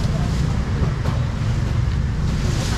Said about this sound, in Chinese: 那吹着海风，吹着海风，听听海浪声，就很好了